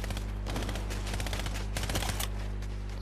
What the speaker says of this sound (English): Where is this guy shooting?